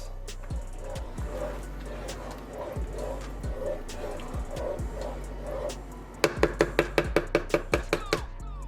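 Ingredients for chicken parmesan are mixed in a bowl, starting with soft, rhythmic scraping and swishing, then ending in a run of sharp, evenly spaced taps.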